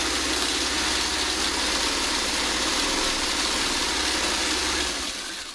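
Home sewing machine running steadily as quarter square triangle quilt pieces are stitched, a continuous close motor hum and rapid needle chatter with no pauses, fading slightly at the very end.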